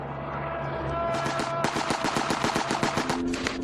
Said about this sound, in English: Bursts of machine gun fire from ground and air erupt across the Somme Valley